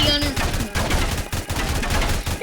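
Minigunner tower firing during fallen mode in a tower defense video game: a dense, continuous roar of rapid gunfire, loud and sustained throughout with only brief dips.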